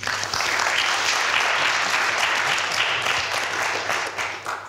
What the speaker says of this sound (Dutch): Geef ze nog een warm applaus.